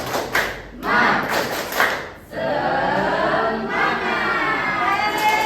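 A class group performs a rhythmic spirit clap, tepuk semangat, during a school nutrition outreach session: loud patterned claps in quick bursts, followed by a steady wash of crowd noise and voices.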